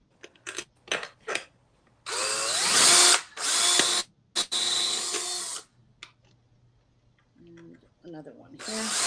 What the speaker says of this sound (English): Where we're going to drill it.